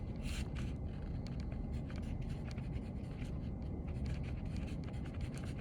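Marker or chalk scratching across a classroom board in quick, irregular strokes and taps, close and fairly quiet, over a low steady room hum with no talking.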